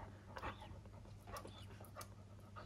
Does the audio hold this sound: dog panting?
yes